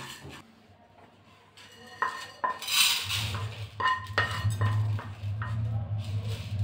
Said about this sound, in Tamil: கொள்ளு நம்ம வறுத்து எடுத்துக்கலாம்